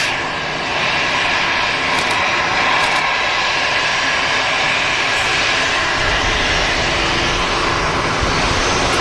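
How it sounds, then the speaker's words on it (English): A Swiss jet airliner at Manchester Airport begins its takeoff roll, a loud, steady engine roar that builds and holds throughout, with no voices. "Swiss 220 is about to start its takeoff roll"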